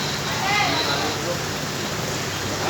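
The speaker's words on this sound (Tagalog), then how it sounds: "Ulan eh." Steady rain falls and hisses across the whole stretch at a market stall outdoors, loud and continuous, with people talking over it now and then.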